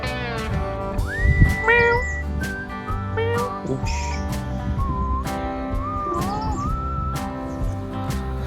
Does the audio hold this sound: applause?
no